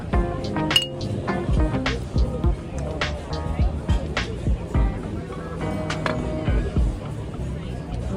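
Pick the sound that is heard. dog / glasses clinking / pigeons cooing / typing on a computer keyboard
glasses clinking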